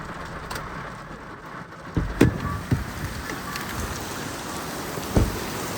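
Heavy rain patters on a car roof and windows, heard from inside the vehicle as a faint, steady wash with a few sharper knocks and thumps.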